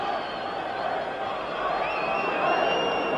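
A vast football crowd at FC Barcelona versus Leeds United, a 1975 European Cup semi-final second leg, produces a steady broad roar throughout, swelling slightly toward the end with no distinct cheers standing out.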